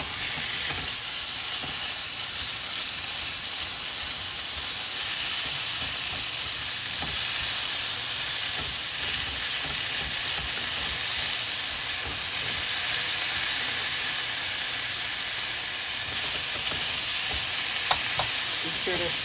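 Ground beef fried slowly in a pan for tacos, giving a constant dense sizzle and hiss with occasional light stirring scrapes, steady and close for the whole stretch.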